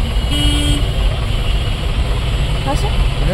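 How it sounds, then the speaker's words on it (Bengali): Inside a taxi crossing Kolkata from Sealdah to Howrah, a loud, steady engine and road rumble fills the cabin, with a short horn toot near the start and another brief tone near the end. "আমরা এখন ট্যাক্সিতে আছি, হাওড়ায় যাচ্ছি শিয়ালদা থেকে।"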